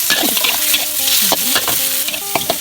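Chinese kale being stir-fried in a pan hisses and crackles loudly and close up, with repeated scraping and clanking of the utensil against the pan and no talk over it.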